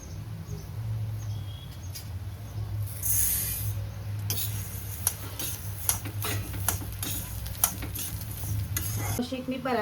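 Whole spices are dry-roasted one by one in a teaspoon of oil in a wok, with a faint hiss under repeated clinks and scrapes of a metal spoon stirring.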